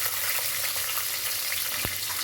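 Small onions frying in oil in a kadai, a steady soft sizzle with faint crackle running throughout, close and even, with one brief low thump near the end.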